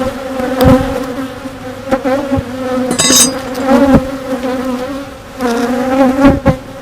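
Honeybees drone loudly around an open hive being inspected for swarm and supersedure cells, a close, continuous buzzing that swells and fades as bees fly past, with a brief clatter of frames.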